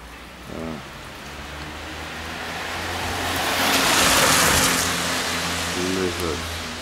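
Rain falls outdoors at an old stone site as a steady, broadband hiss that swells in the middle. A few brief voices come in over it.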